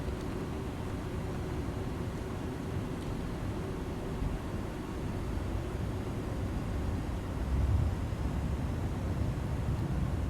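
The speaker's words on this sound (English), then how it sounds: "I like the engine sounds." Steady engine drone of an Airbus A310 cruising in a flight simulator, a continuous low rumble and broadband hiss holding at even loudness throughout.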